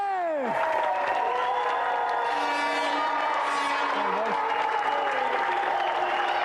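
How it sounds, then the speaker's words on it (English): A television game show studio audience applauds and cheers for the contestants, steady clapping continuing throughout, with a descending musical tone at the start and some brief vocal sounds in the mix. "a round of applause for our gallant loser Conley and tonight's winner, Jeff!"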